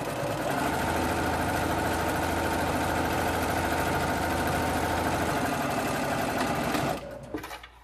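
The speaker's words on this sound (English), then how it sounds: "I'm just going to sew along the outside edge with a quarter inch seam allowance." A sewing machine runs steadily and close up for about seven seconds, sewing along the outside edge of a reversible cloth face mask, then stops abruptly with a few small clicks.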